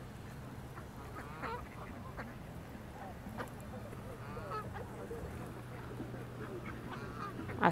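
Geese honk near and far at a lake, scattered calls over a steady low hum and background murmur.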